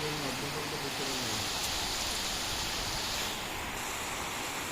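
Heavy rain pours steadily over a village area with trees, a dense and constant hiss that fills the whole clip; a voice is briefly audible at the beginning.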